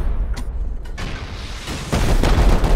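Rocket explosions against a base wall in the video game Rust, muffled booms and impacts that grow into a louder, heavier rumble in the last second, close and loud.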